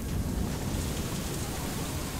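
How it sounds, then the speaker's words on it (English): Steady rain in the video game Far Lone Sails, a dense, even hiss of falling water with low rumbling weight underneath, continuous and close, with no voices. "It's raining technically, man."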